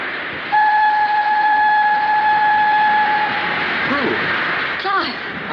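A steam train whistle at a wartime railway station gives a long, steady two-tone blast, loud and close, over a busy station din. Brief chirping sounds follow near the end.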